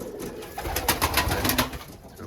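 Several Iraqi pigeons in a flock of 26 coo softly nearby, their low throaty calls overlapping in a steady murmur with light rustling and background noise.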